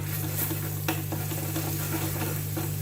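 Hing and ginger garlic paste sizzle in hot oil in a pan as a spoon stirs and scrapes, with steady frying crackle, periodic scraping strokes, and a constant low hum underneath.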